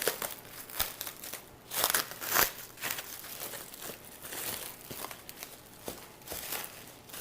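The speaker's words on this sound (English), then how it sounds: "let's unwrap our dough" Plastic wrap is peeled off rested soft pretzel dough, giving close, irregular crinkling and crackling bursts that rise and fall throughout.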